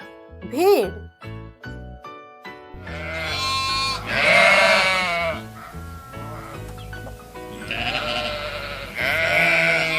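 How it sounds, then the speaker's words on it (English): Sheep bleat in a string of loud, wavering cries, several in a row, heard up close with some short clicks early on. "sheep, sheep."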